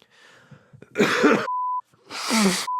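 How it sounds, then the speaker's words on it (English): Two loud, harsh bursts of coughing up phlegm, each followed by a short steady electronic beep tone, with faint breathy noises before the first burst. "Let me cough up a bunch of phlegm real quick"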